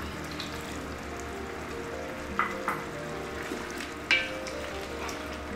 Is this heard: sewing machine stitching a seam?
no